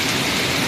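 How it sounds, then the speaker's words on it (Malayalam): Heavy rain pours down at Anakkal, Kanjirappally, in a brief, loud, dense roar that stays constant throughout. "പെട്ടെന്നാണ് മഴ വന്നത്."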